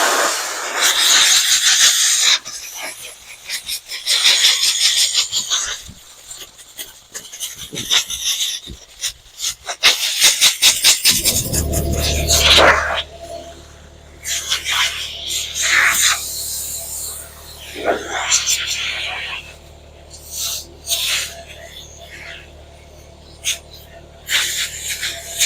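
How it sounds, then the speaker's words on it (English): Compressed air hissing in sharp, repeated blasts from a pencil-type air nozzle blowing out an air filter during an oil change on a 2017 Ford F150 5.0 engine, with bursts of rasping and rubbing between them. "I have probably 10 or 12 different air nozzles, and these little pencil type things are the best. You get the most airflow out of them for doing things like this."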